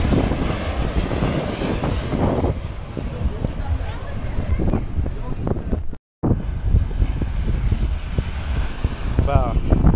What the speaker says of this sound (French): On va assister au démarrage des avions le long de la plage